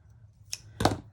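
Scissors snip through a strip of trim for a junk journal, giving two quick close cuts, the second louder and fuller, in a quiet room.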